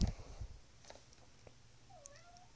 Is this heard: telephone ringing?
no